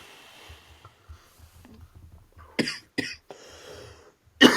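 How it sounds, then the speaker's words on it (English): A person coughs a few times in sharp, separate bursts, the last one loudest, with soft breathing and low background rumble in between. "Oh my god, I can't wait for this cough to go away."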